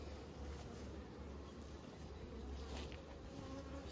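Honey bees buzz around an open, strong hive during spring hive work, a dense, continuous, even drone of many insects close by with no talking.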